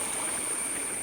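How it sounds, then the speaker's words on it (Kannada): A small village stream spilling over a low makeshift waterfall, its steady broadband rush of flowing water continuous and fairly close, with no voices over it. "ಎಲ್ಲ ನೋಡಿ ನಮ್ಮ ಲೋ ಬಜೆಟ್ ಜಲಪಾತ"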